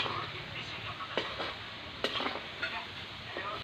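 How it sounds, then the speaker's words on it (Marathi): Garlic frying in a pan for homemade raw mango pickle, a steady close sizzle with occasional stirring clicks and scrapes over about four seconds, no talking. "तुम्ही पण अशा प्रकारे लसूण टाकून फ्राय करून घ्या."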